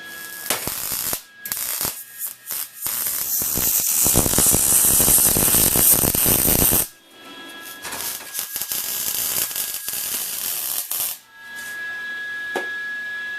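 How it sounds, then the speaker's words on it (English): Arc welding joins the tacked metal pieces of a lone star, a loud continuous crackling hiss for several seconds, broken by brief pauses and short bursts, with a steady tone running beneath. "it's time to weld it up"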